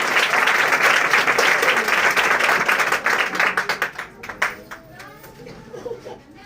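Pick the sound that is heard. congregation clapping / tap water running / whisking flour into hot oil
congregation clapping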